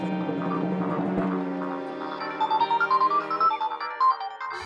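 A phone ringtone plays a melodic electronic tune, first as sustained tones, then as a string of quick, bright repeated beeps, clear and alone.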